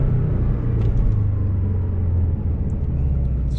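Low engine rumble from a Porsche 718 Boxster with a manual gearbox as it downshifts approaching a stop sign, a steady throaty drone heard from inside the car.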